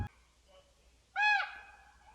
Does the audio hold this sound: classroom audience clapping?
no